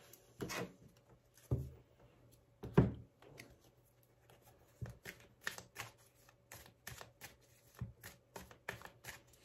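Tarot cards being shuffled and handled at a reading table, soft irregular riffles and taps, quiet and close, with brief louder snaps among scattered gentle shuffling.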